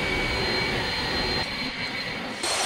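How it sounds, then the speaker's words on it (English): An air blower roars steadily while clearing bees off honey frames during a harvest, a loud continuous rushing whoosh close by that dips briefly near the end before resuming. "I'm gonna try and trick to clear them out with the air blower."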